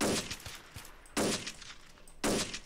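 Three loud, booming sniper rifle shots in a GTA multiplayer match, each a sharp blast that rings out briefly, spaced about a second apart, with faint game sounds between them.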